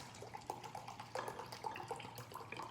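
Oil and water mixture, shaken to emulsify, pours into a glass Pyrex dish, a quiet close trickle and splash with faint drips and small clinks over roughly three seconds.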